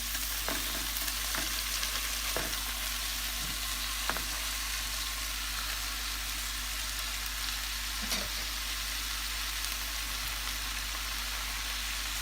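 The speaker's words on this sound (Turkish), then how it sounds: "Ispanağımızı da güzel bir şekilde kavurup altını kapatalım." Spinach sautéing in a pan on the stove for a börek filling gives a steady, close sizzle that runs throughout, with a few brief clinks of a utensil stirring the leaves.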